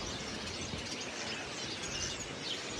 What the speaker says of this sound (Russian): Боже, как здесь поют птицы.